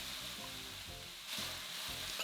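Chopped radish and garlic stems sizzle steadily in a hot pan for radish kimchi fried rice, a close, continuous frying hiss with low clatter as the food is stirred.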